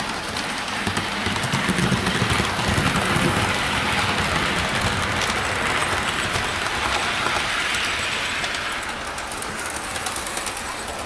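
A Hornby Inter-City HST model train runs along its track with a continuous close rolling whir and faint rhythmic clicking over rail joints, steady throughout with no talking.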